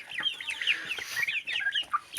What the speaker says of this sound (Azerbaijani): Bu da xoruzumuzdur.